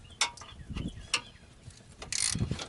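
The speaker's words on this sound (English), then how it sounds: "Now I'll get a wrench for this right here. And I'll get that undone" A wrench works a 13 mm bolt on a Dodge Ram Power Wagon during a radiator install, giving a few sharp ratcheting clicks and metallic knocks close by, with short gaps between them.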